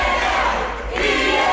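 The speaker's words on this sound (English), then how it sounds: "Listen to the crowd." A packed crowd at a Rogue Wrestling Attractions event in Spokane cheers and roars loudly and continuously, a dense wall of voices filling the arena.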